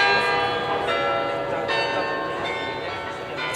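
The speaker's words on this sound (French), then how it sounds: "C'est à l'occasion d'un concert de carillon à la cathédrale de Liège" Carillon bells ring at Liège cathedral, sustained resonant tones overlapping with fresh strikes every second or so, heard fairly close and clear.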